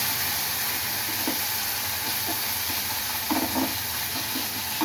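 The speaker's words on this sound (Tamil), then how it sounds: "நீங்கள் எண்ணெயில் வதக்கினாலே போதும்." Onions and tripe sauté in hot oil in a pan, giving a steady, loud sizzling hiss throughout, with faint stirring scrapes and clicks near the end.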